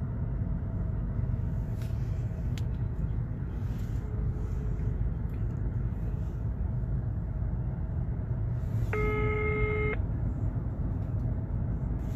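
A single telephone beep, about a second long, sounds near the end of the call being placed to the public prosecutor's office, over a steady low rumbling background.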